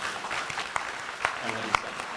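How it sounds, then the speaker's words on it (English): An audience at a ribbon cutting ceremony applauds in a dense, continuous wash of clapping, with a few sharper claps standing out and faint voices underneath. "I think we all should clap for Jeff"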